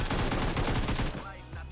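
Rapid automatic gunfire from the PUBG Mobile shooter game rattles off in a fast burst lasting about a second, then stops, leaving a faint murmur.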